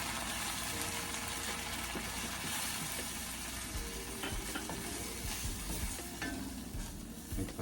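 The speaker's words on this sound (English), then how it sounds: "Mix everything." Flour and other ingredients for a macaroni pie and steak dish are mixed in a sizzling pan, producing a steady close frying hiss with scraping stir sounds throughout.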